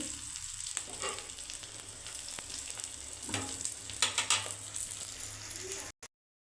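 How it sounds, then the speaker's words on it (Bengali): Eggplant slices frying in hot oil on a gas stove for an egg omelette, a steady close sizzle with brief crackling bursts near the end before the sound cuts out. "এবার এই যে বেগুনটা কিন্তু তেলে সুন্দর হ্যাঁ বেশ ভাজা হয়ে যাচ্ছে"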